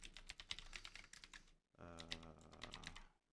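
Quick bursts of typing on a computer keyboard while creating an account, two close runs of clicky keystrokes separated by a brief pause, with faint talk in between.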